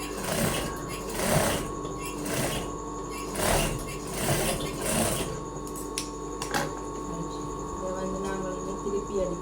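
A sewing machine stitches a blouse in short, loud bursts of rapid mechanical clatter, then settles into a steady fainter whir, close by with no talking over it.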